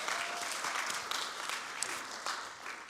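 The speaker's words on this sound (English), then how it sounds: "Please give them a big round of applause." An audience applauds at a theatre show, a steady wash of many hands clapping together for about three seconds, fairly close and full, with no voices over it.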